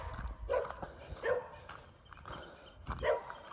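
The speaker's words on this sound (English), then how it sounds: "that's a hound dog." A hound dog barks a few times at a moderate distance outdoors, the short woofs spaced irregularly over a faint background hum.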